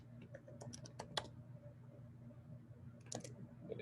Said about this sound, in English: Let me see if I'm typing that correct.